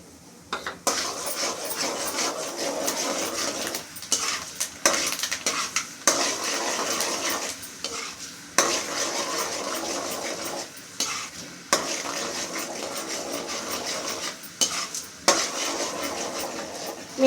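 Urad dal frying in oil in a pan while a spoon stirs it, giving a steady sizzle broken by repeated scraping and clinking strokes against the metal, close by, with no talking.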